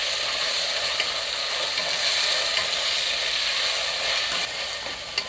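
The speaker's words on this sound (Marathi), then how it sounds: "आता पुन्हा मी 2 मिनिटं चांगलं परतून घेणार आहे." Peas and potato for khichdi sautéing in a pan, with a loud, dense, continuous sizzle and faint stirring underneath; no voices.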